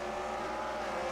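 Sustained engine drone of IndyCar race cars on track at St. Petersburg in a video game, a steady close whine with no voices.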